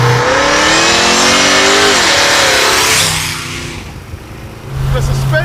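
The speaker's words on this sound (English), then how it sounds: "Yes, it does a burnout." A 1940 Ford hot rod does a burnout, its engine roaring loud and close with rising revs and a rough, gritty tire-spinning rush that briefly dips before surging again.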